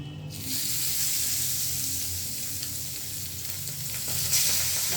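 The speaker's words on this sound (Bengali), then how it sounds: "তারপরে এক এক করে পাবদা মাছগুলি আমরা দিয়ে নিব।" Pabda fish slid one by one into hot salted oil, producing a strong, steady hiss of frying that sets in abruptly and stays loud and close, swelling slightly near the end.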